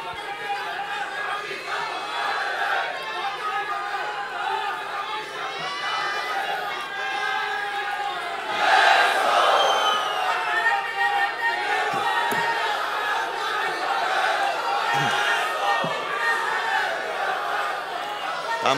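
A large crowd at a Shiv Sena political rally with Uddhav Thackeray roars with steady chatter and shouting, swelling into a louder burst of cheering midway before settling back into a dense, continuous crowd din.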